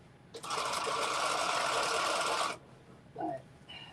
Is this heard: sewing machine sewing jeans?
yes